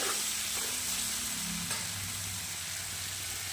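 Chicken kosha cooks in a jambati pot with a steady low sizzle and hiss, constant and fairly quiet throughout, with no voices.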